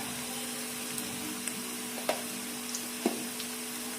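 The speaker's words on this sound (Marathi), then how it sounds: "सोनेरी रंगापर्यंत तळून घेऊ।" Onions frying in a pan until golden, a steady soft sizzle throughout with a couple of faint clicks, quiet and alone without talk.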